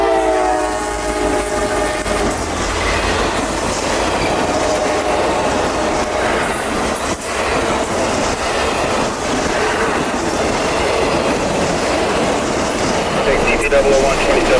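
CSX freight train locomotive rolling past near Ellerslie and Dade City, Florida, a loud steady rumble with wheel clatter and a sustained horn blast early on, continuous throughout.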